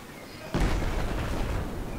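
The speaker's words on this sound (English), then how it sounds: "That's a big explosion. Look at that." A sudden deep explosion in the video game Battlefield 4 booms and rumbles on, loud and sustained, with no talking.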